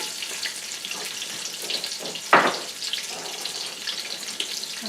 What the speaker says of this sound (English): So now my oil is hot, so I'm adding in my onion.